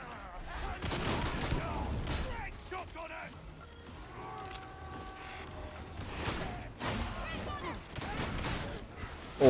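Revolver shots ring out amid a busy Warhammer video game battle, repeated bursts of gunfire layered with other weapon fire and effects, while a player talks over the action.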